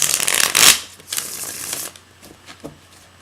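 Tarot cards shuffled by hand during a reading, with a loud, close riffle burst at the start, then softer, scattered card slides and taps trailing off, no talking.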